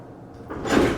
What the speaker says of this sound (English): the door closes really quick before I push the button